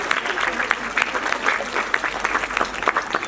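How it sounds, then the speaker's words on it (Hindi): An audience at an annual function applauds, a steady, fairly loud round of clapping from a crowd, with a voice talking over it. "तालियां ही बनती है"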